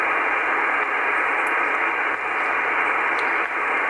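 An amateur radio receiver tuned to the 10 meter band gives steady, loud band-limited static hiss with no clear voice or Morse tones, only a couple of brief dips in the noise.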